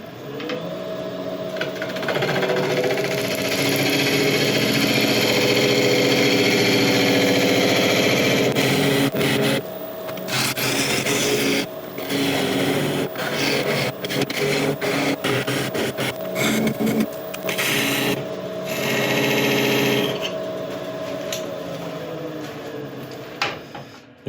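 Lathe turning a piece of apple burl wood while a foot and tenon are cut on the bottom of a hollow form, a loud steady whirring grind with scraping cuts that falter and break off repeatedly toward the end.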